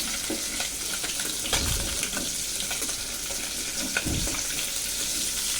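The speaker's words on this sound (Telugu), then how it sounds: "2 పీసెస్ ఫ్రై చేసుకుంటాను." Two fish pieces fry in hot oil in a kadai, giving a steady broad sizzle throughout with a couple of louder bursts of spatter and stirring.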